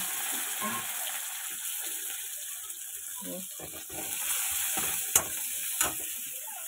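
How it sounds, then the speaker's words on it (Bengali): Onion and green chillies fry in oil with a steady close sizzle, broken by intermittent stirring and a couple of sharp clinks, while a voice talks over it. "এতটা তেল লাগবে না। দিয়ে দেবো অল্প করে পেঁয়াজ, বেশ কটা কাঁচা লঙ্কা,"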